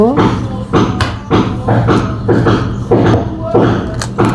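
Two eggs are beaten by hand in a bowl: close, steady rhythmic strokes, roughly two per second, each a soft thud with a light tap.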